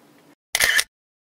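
A Canon EOS R10 mirrorless camera fires its shutter once: a single short, crisp mechanical snap, close and clean, following a faint low hum and then silence.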